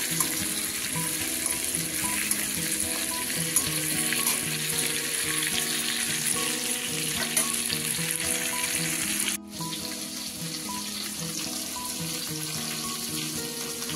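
Pointed gourd fries in oil, sizzling and crackling steadily in a pan, with a brief pause before the bubbling resumes.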